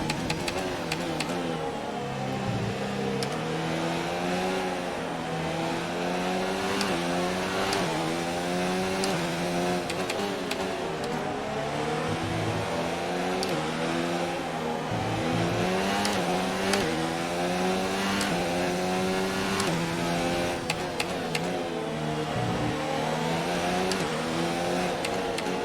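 An F1 car engine in the video game F1 2019 on the Russia circuit, a loud high-pitched whine rising and dropping repeatedly through gear shifts and braking, continuous for the whole stretch.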